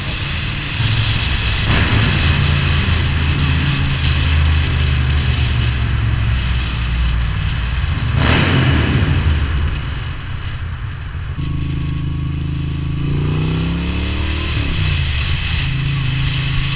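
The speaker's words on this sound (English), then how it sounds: "playing with the exhaust note in this tunnel." A Moto Guzzi V9 Roamer V-twin fitted with an Agostini exhaust rumbles loudly inside a tunnel, its echoing engine note swelling and falling as it is revved continuously, close and dominant.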